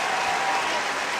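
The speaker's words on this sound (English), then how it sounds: "Gets a nice ovation from the crowd" A basketball crowd at an NCAA women's tournament game gives a brief, steady burst of applause, a dense wash of clapping with no talking over it.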